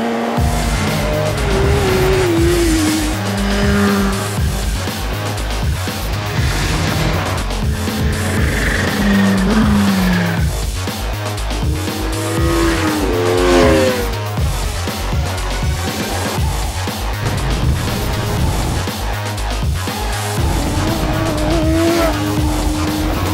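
Superstock race motorcycles at the Isle of Man TT roar loudly and continuously, with engines revving through rising and falling pitch sweeps as several machines blast past in close succession.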